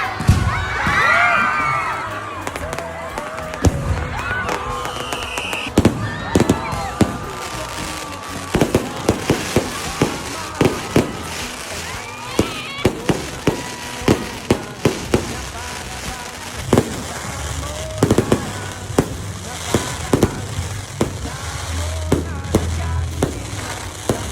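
Fireworks burst in a long string of sharp pops and thuds over a noisy crowd at a Christmas lights opening in Maitum, with scattered cheering and children shouting.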